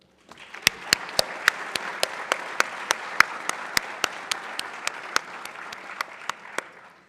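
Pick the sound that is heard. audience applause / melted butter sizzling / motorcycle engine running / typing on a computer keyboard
audience applause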